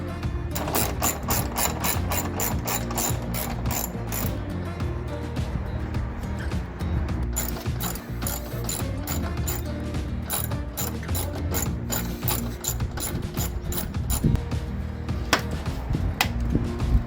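Rapid ratchet clicking while grille bolts are removed on a 2012 Ram 1500, dense bursts of sharp metallic ticks repeating steadily and close up throughout.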